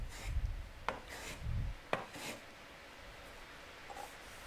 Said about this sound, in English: just quick skip planing to get rid of those.